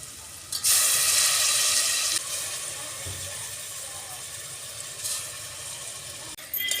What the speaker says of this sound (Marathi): आता आपण भिजत ठेवलेले तांदूळ ह्याच्यात घालूया.